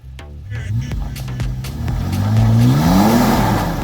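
A 4WD on KO2 tyres revs hard while climbing a steep high-country dirt track, the engine note rising and swelling steadily in a loud, close, continuous climb.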